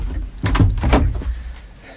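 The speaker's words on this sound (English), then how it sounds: "come on, open the door" A door opening in an old house, a short cluster of thuds and a scraping clunk followed by a fading rattle, fairly close with no voices.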